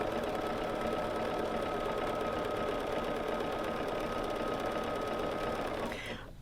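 A BERNINA sewing machine runs steadily during free-motion quilting with rulers, a continuous close motor hum with rapid needle chatter that fades out at the very end.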